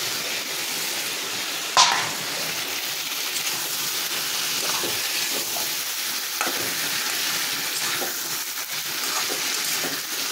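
Boiled-then-fried potatoes and jackfruit pieces stirred into a hot masala that has released its oil, giving a steady, close sizzle with intermittent spatula scrapes and one sharp knock near the start, without speech.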